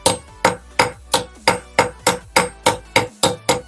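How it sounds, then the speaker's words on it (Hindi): Steady hammer blows on a bicycle kickstand rivet during a home repair of a geared bike, about eleven sharp metallic strikes at an even rhythm, close and loud with no talk. "हथौड़ी को थोड़ा सा इस तरह से तिरछा करके मारना है"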